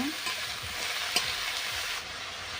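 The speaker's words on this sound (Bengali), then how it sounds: "মুলোগুলো আমার একটুখানি নাড়াচাড়া করে ভাজা ভাজা হয়েই এসেছে এবার এই শাকগুলো আমি তুলে দেবো" Radish pieces with potato, spinach and gourd greens sizzle steadily in a hot pan while being stirred, a continuous close frying hiss with soft scraping of the spatula.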